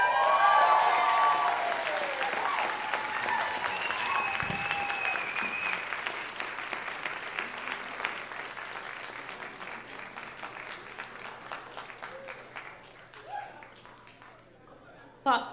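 Audience applause for the panelists at a local gathering, loud and dense at first, then thinning into scattered clapping with murmured crowd chatter, fading toward the end.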